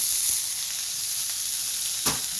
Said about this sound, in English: let it sear for about 20 to 30 seconds maximum